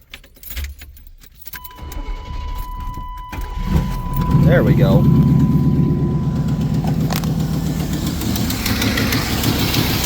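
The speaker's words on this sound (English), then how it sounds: "let's go ahead and get this truck started up" A pickup truck engine cranks and catches, then settles into a loud, steady idle that runs a little rough, with a brief spoken remark near the start.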